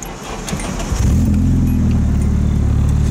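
A Nissan S13 engine starts up and settles into a steady, loud idle, with low droning engine tones and the body shaking and rattling throughout.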